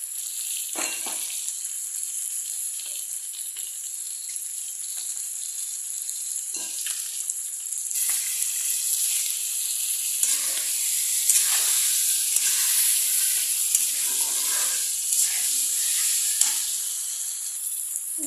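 Chopped garlic and ginger sizzle steadily in hot oil in a pan for a home chicken dish. The hiss is bright and continuous, close to the listener, and briefly swells with louder crackles partway through.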